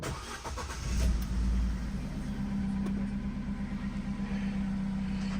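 An Opel Corsa D with a starting fault cranks briefly, catches with a low thump, then settles into a steady, quiet idle hum.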